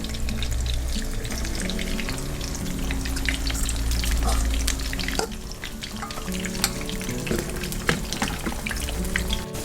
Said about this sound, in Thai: การที่เราทอดหมูยอแบบนี้นะคะ เราจะได้หมูยอสูตรที่ กรอบนอกนุ่มในอร่อยมาก ๆ เลยค่ะ